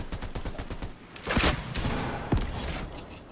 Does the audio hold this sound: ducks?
no